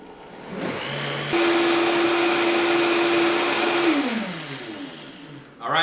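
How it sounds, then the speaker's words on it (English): A countertop blender whirs loudly and steadily for a few seconds while blending arugula and other greens, then winds down and stops. "So now that I got the arugula added in, I'm going to go ahead and turn this blender on."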